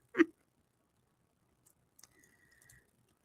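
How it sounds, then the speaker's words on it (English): A single sharp hiccup sounds close and fairly loud, followed by near silence with a few faint clicks and small rustles. "Excuse me, I have the hiccups."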